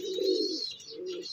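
Racing pigeon just home from a 42 km toss, two soft, close coos in quick succession, each a low throaty rolling note, heard alone.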